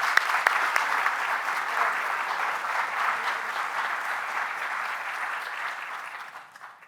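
An audience at a university awards ceremony applauds an honoree with a steady, even wash of clapping that holds for several seconds and then tapers off, with no voices over it.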